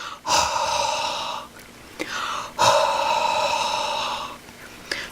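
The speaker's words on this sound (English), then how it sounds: "is to blow your breath on it" Two long, breathy exhalations blown close up onto a rubber stamp, each a hollow rushing puff lasting over a second, with short clicks between them.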